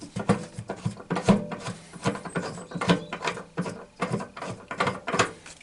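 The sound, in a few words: loosening bolts on campervan seat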